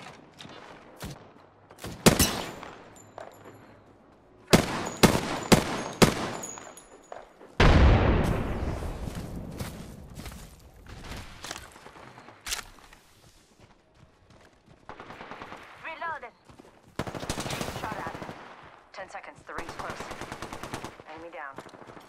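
Automatic gunfire in Apex Legends, with repeated loud close bursts and single shots in a sharp staccato rhythm, then a heavier blast and trailing game noise and effects.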